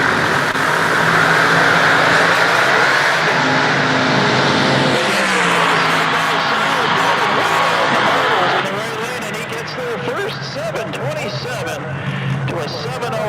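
Funny car drag racers roar down the strip at a drag race, loud engines at full throttle with the pitch shifting as they pass, while an announcer talks over the noise.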